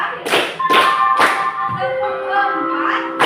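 Children clap three quick, sharp claps in a counted pattern, each evenly spaced. A voice then speaks over the quiet that follows.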